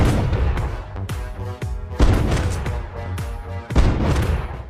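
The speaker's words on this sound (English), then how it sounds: "The sound of gunfire immediately alarmed the sheriff" Gunfire from a pistol in a film scene, a rapid series of loud sharp booming shots with reverberant tails, close and heavy, repeating irregularly throughout.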